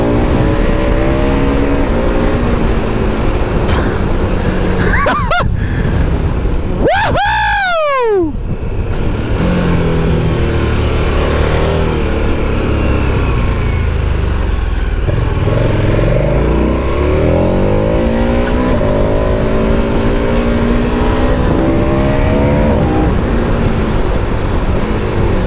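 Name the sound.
KTM 1290 Super Adventure S motorcycle engine accelerating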